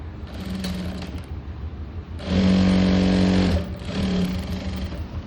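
A sewing machine stitches an umbrella frock in bursts, running with a steady whirring hum, louder in the middle run, then pausing and starting again, close up with no talk.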